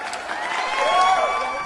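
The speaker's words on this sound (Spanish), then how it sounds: "Un fuerte aplauso para ella" An audience applauds and cheers to welcome Rosalind Reiner as she is introduced, a dense, steady wash of clapping that swells slightly midway, with crowd voices mixed in.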